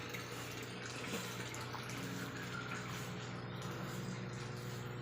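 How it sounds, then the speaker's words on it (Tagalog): Water circulates through a filter in an African catfish breeding tank, a steady, continuous rushing trickle that stays even throughout with no voices. "Tsaka nakaset na rin yung running water natin. Ayan, filter. Doon, umiikot ang tubig."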